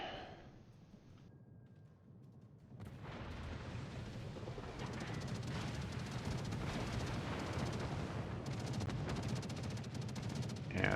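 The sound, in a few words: warship firing high-explosive shells in World of Warships video game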